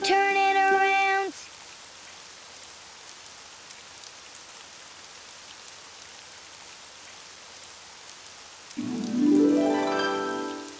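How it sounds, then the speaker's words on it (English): Soft, steady rain hiss runs throughout, framed by brief musical tones at the start and end. "it's raining outside"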